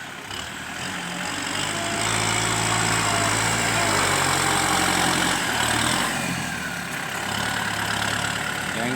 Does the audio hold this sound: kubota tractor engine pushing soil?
yes